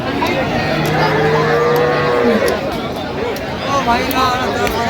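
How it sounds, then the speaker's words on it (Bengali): A cow with her calf at a busy cattle market lets out a long, close moo, with lively voices of people talking all around it. "গাভী বাছুর আমরা দেখছিলাম এখানে।"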